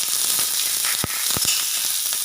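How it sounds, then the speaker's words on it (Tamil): Chopped onions sizzle in oil in a pan for cabbage poriyal, a dense close frying hiss broken by a few sharp clatters of stirring. "இப்போ நம்ம பொடி பொடியாக கட் பண்ணி வச்சுக்க வெங்காயத்தை சேர்த்துக்கலாம்."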